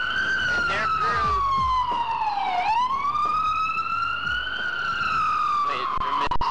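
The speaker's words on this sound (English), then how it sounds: "Wait for Mr. Ambulance to go by there." An ambulance siren passing nearby on a New York City street, a loud wailing tone that sweeps down and back up as it goes by, with traffic noise and a voice talking underneath.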